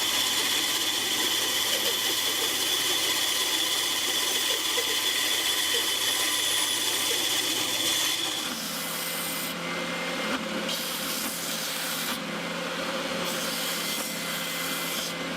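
A wooden end of a handmade classical-style guitar is cut and shaped with a steady, close rasping, rubbing and sanding noise. About halfway through the tone changes to a lighter, intermittent grinding.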